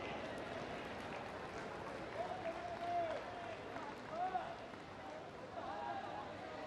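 A large audience at a government inauguration ceremony with PM Modi gives sustained, steady applause that sounds distant and diffuse, with a voice speaking over it.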